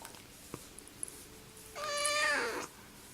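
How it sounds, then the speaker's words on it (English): A cat gives a single drawn-out meow, close and fairly loud, after a quiet stretch with a few faint ticks. "I've got a kitty cat with me"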